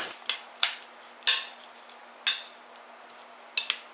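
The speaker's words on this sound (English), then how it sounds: "now we can stir it around a little bit to coat it all in the butter" A spoon scrapes and clinks against a pan while almonds are stirred in butter, giving about half a dozen sharp, irregular metallic knocks over a quiet background.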